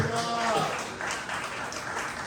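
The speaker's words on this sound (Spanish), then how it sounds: "Quiero un aplauso a Cristo." A church congregation applauds for Christ during a Spanish-language sermon, a dense wash of clapping that follows a brief voice at the start and carries on steadily.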